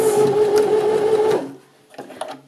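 A sewing machine stitching a binding strip onto a 3/8 seam allowance for a Hong Kong seam finish, a steady close whir for over a second, then stopping into quiet with faint handling clicks.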